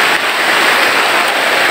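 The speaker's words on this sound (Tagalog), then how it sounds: "Bumubuhos na naman po ang ulan." Heavy rain pouring down outdoors among banana plants and palms, a steady dense hiss of water without pause, close and loud throughout the brief moment.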